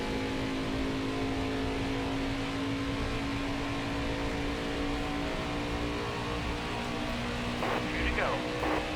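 A NASCAR Xfinity Series race car in a racing game drones with a steady, sustained engine note at high revs, loud and close throughout, with a brief rise in pitch near the end.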